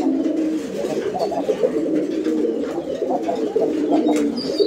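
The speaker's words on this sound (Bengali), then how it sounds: "দেখতে পাচ্ছেন একদম ভরপুর ডাকের কবুতর" Pigeons coo continuously nearby, low throaty calls overlapping in a steady, rolling rhythm with no talking.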